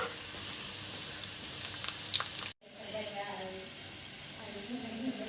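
Chopped onions for chicken korma fry in oil over high heat, a steady sizzle that cuts out abruptly partway through, then returns quieter with faint clinks and softer bubbling as the heat is turned off.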